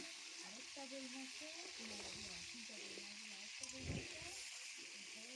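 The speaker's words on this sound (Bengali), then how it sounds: "এখন ভালো করে ভেজে নিব এই মুরগির পিসগুলো" Chicken pieces seasoned with chili powder and salt fry in a wok over a clay stove, giving a steady close sizzle with occasional stirring scrapes, while a person speaks over it.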